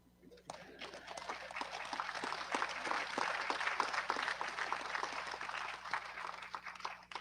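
Audience applause at an opening ceremony for a national Toshaos council conference, a sustained crowd of clapping hands that swells and holds for several seconds, fairly distant and even.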